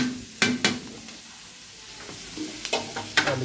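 Onion, garlic and ginger sauté in a pan for pares, a low continuous sizzle punctuated by a few sharp scraping stirs of a spatula, close and without talk.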